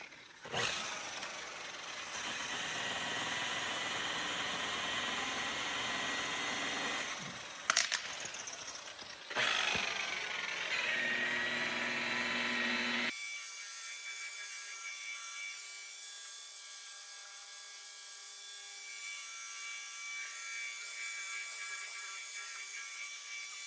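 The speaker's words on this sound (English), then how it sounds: "Give this thing a rake." A rake scraping over a surface during cosmetic restoration work on a P-51 Mustang warbird, heard as a steady, close rubbing and scraping for about thirteen seconds with two brief louder knocks, then a quieter continuous hum.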